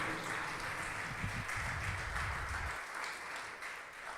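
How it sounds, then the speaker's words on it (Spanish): A church congregation gives a dense wash of applause at a Spanish-language sermon, steady and fairly distant, with low music or voices murmuring underneath in the middle. "Damos un aplauso a nuestro Dios"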